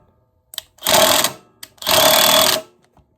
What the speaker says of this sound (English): tighten your bolts with an impact till they're even